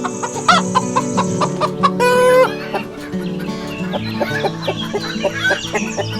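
A chicken clucks in a quick series of short, sharp calls close by, with one drawn-out squawk partway through, all over steady background music.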